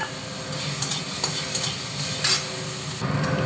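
Shrimp coated in turmeric and salt frying in a pan, a close, continuous sizzle with scraping stirring strokes and brief crackles spread through it.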